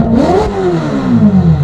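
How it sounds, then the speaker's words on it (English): Ferrari F8 with a Novitec exhaust system, engine revving loud and close, pitch climbing sharply then falling away in one long, deep rev. "This car already fitted with the Novitec exhaust system."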